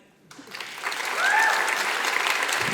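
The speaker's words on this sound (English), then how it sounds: "if we can give her a quick round of applause for all of her hard work" A crowd at a downtown community meeting breaks into applause, steady dense clapping that swells after a quiet start and holds at full strength, with a brief whistle-like tone rising over it.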